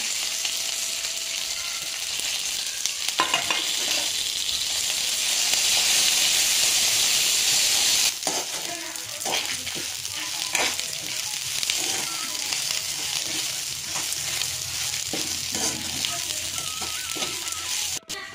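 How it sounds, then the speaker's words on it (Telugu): Curry leaves and spices fry in hot oil in a pan, with a loud, steady sizzle and hiss throughout, a brief surge and then a scraping stir partway through, no talking. "సో ఇందులో నేను కడిగి ఆరబెట్టుకున్న కరివేపాకు అయితే వేస్తున్నాను."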